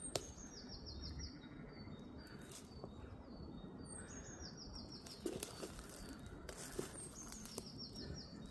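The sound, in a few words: birds singing near old church and graveyard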